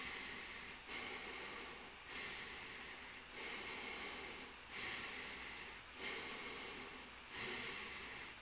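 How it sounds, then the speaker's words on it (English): Slow, steady breathing through the nose, about seven soft hissing breaths in a regular rhythm, close and quiet with no talking. "So you can hear me breathing"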